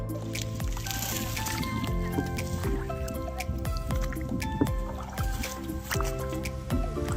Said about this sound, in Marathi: हा बोटिंग करत आहे